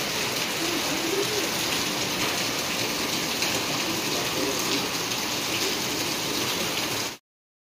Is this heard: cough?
no